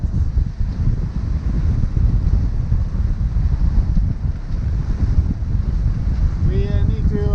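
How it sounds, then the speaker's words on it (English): Strong wind buffets the microphone aboard a sailboat in a fjord, a steady roaring rush with water noise underneath, continuous for the whole stretch, ending with a brief higher whine. "the wind will be shifting all the way through this bit of the fjord, but it is really blowing in here"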